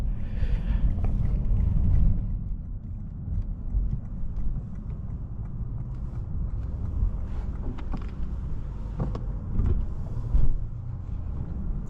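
Steady low rumble of a 2020 Lexus RC 350 F Sport driving, with road and wind noise throughout and a few brief bumps.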